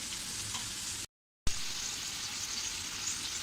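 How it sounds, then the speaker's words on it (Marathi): Rava-coated potato slices fry in a hot pan, turned to crisp the second side, giving a steady close sizzle and crackle that breaks off briefly near the start before resuming with a soft clatter. "आता आपण दुसरी बाजूसुद्धा छान अशी खरपूस भाजून घेऊया"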